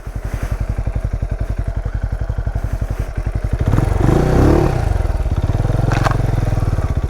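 A Benelli Imperiale 400 single-cylinder motorcycle rides on a rough off-road track, its steady thumping exhaust pulsing up close, with clattering and thuds from the uneven ground and a louder, heavier stretch partway through.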